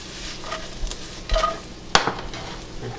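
Bacon and onion sizzling in bacon fat in a pan for sautéed cabbage, with a soft steady fry, a quick shake of the pan and a sharp metallic clack close by.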